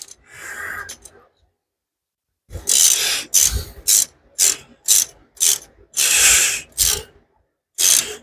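A wrench ratchets a bolt tight by quarter turns on a Honda in a garage: loud, close pawl clicks in short bursts and longer sweeps, with a brief pause between strokes.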